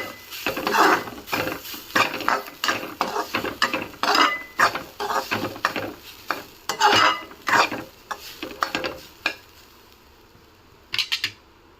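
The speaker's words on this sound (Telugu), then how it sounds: "ఇందులో కొబ్బరి పొడి వేసుకున్నాము. దీన్ని ఒక 5 మినిట్స్ బాగా వేపుదాము." Coconut powder stirred and scraped in hot ghee in a pan for coconut burfi, with repeated bursts of spoon scraping over a steady sizzle, close and fairly loud, fading toward the end.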